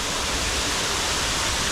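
Steady broadband rush of flowing water in Punggol Waterway Park, Singapore, a continuous close, loud wash with no breaks and no voices.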